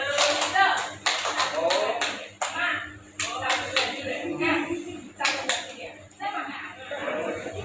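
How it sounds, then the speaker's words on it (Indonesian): An audience in a school teacher-training session performs a rhythmic spirit clap, sharp bursts of many hands clapping in patterned groups, alternating with a voice leading and chanting between the claps. "Jadi tepuk tangan saja."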